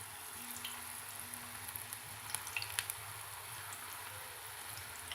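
Raw plantain pieces sizzling gently in oil over moderate heat, a soft continuous crackle with occasional faint pops, quiet and steady without any talk.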